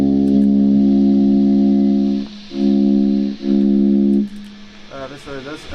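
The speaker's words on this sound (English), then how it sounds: "And then I go through delay and reverb." Electric guitar run through a chain of effects pedals, delay and reverb among them, sustaining loud, thick chords that cut off and swell back in twice, then trailing into wobbling, echoing tails.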